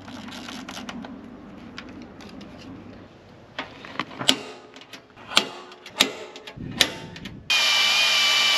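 A power drill bores mounting holes for a fan on a Chinese mini excavator, with sharp metallic clicks and knocks between the bursts, then a loud steady whir starts near the end.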